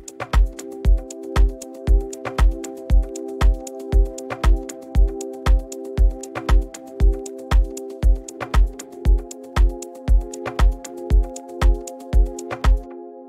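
Two organic house chords alternate in sequence, held as sustained tones over a steady four-on-the-floor kick with crisp hi-hats, looping for about thirteen seconds with no talking.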